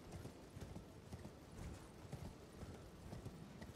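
Steady galloping hoofbeats of a horse in Elden Ring pound in a fast, continuous rhythm, somewhat muffled and low in level, with no voices.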